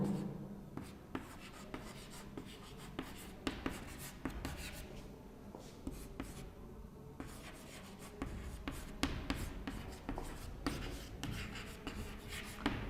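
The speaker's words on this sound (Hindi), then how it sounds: "तो मैं लिख देता हूं पेड्रो" A lecturer writes on a board, a long run of tapping, scraping strokes with irregular rhythm and short pauses, close and clear with no talk over it.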